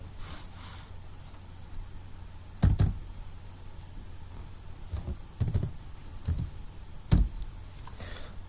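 Clicks of a computer keyboard as a password is typed, with several short clusters of keystrokes spread apart over a steady background hum.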